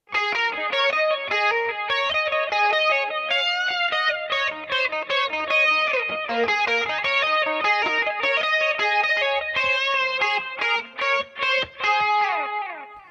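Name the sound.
electric guitar riff with effects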